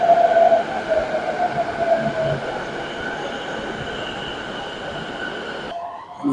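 A train pulls away from a busy station in Japan with a continuous rolling rumble and a thin wheel whine running over it, then the sound cuts off abruptly near the end.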